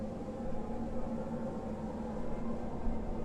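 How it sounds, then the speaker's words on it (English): Steady, dense rushing roar of a storm in the video game Astroneer, a continuous wind-like wash with a faint low hum, unbroken for the whole stretch with no voices. "But it still sounds like this storm is going on"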